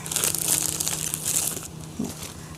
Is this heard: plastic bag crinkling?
yes